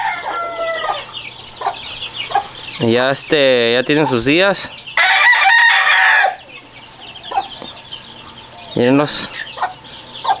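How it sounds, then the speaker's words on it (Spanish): Clucking hen with her young chicks, loud close clucks and cackles plus rooster-like calls and peeping, with someone speaking over the birds partway through. "Sacó los pollitos."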